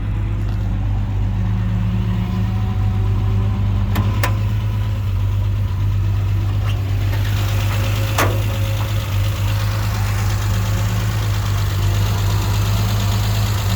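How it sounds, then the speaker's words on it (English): A 1976 Triumph TR6 with SU carburetors idles steadily, its low engine hum constant and close throughout, with a few faint clicks and no talking. "Let me show you the engine."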